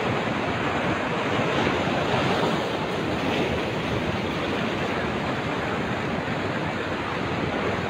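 Surf rolling onto RK Beach in Vizag, a dense, continuous roar of breaking waves close by, mixed with wind buffeting the microphone and no voices.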